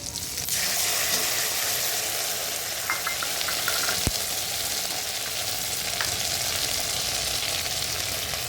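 Chopped tomato with chili and cumin paste frying in a pan, giving a steady, close sizzle with a few faint clinks of stirring throughout, no voices.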